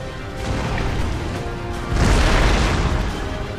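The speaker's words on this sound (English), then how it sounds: "And then my howitzers firing on his foot artillery now." Howitzers firing in the Napoleon Total War battle game, a low rumbling boom swelling about halfway through over steady battlefield din, no voices.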